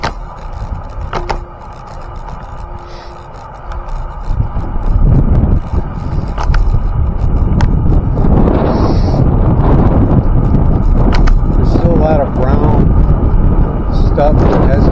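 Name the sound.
wind noise while riding a trail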